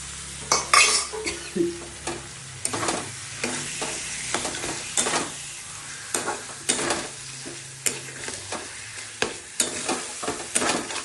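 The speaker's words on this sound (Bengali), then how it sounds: "এখন ম্যারিনেট করা মাংসগুলো, মটনগুলো দিয়ে দিচ্ছি" Marinated mutton sizzles in a hot pan while a spatula stirs it in quick, repeated scraping strokes. The scraping and light clatter sound close and busy over a constant frying hiss, with no voices.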